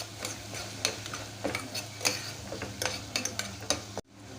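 Ground chilli, pepper and turmeric sautéed in a pan for mutton biryani, with a spatula tapping and scraping at an irregular pace over a soft sizzle, close by. The sound cuts off abruptly near the end.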